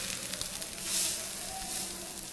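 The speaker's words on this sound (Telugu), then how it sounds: "ఇప్పుడు దీన్ని బాగా కలుపుకుందాం" Gongura (sorrel leaf) gravy being stirred in a pan, a soft continuous sizzle and bubbling with faint scraping, steady and close, no voices.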